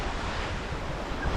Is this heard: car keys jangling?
no